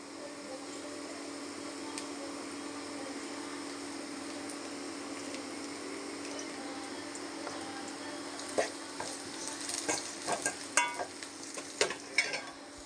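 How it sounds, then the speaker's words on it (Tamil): Steady sizzling of onions frying in a pan with turmeric and asafoetida for a potato chickpea curry, with scraping stir strokes and clinks growing busier toward the end; no voices. "வெங்காயம் நல்லா வதங்கட்டுங்க."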